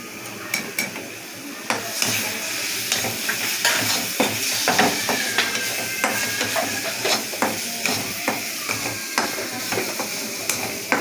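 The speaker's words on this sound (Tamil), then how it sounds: "இதையும் பச்சை வாசனை போகிற வரைக்கும் வதக்கணும்" Onions and ginger garlic paste sauté in a pan, a steady sizzle broken by frequent, rhythmic taps and scrapes of a spoon against the metal.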